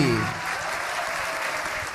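Applause from a religious gathering's audience for a singer during a ngaji session, a dense steady clapping texture lasting two seconds, with a brief voice at the very start.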